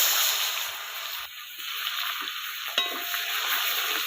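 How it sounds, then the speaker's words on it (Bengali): Fish frying crisp in hot oil in a pan gives off a loud, steady hiss and crackle, broken by a brief stir and a few sharp pops, with no voices. "একদম কড়া করে ভেজে নিয়ে তেল দিয়ে দিলাম।"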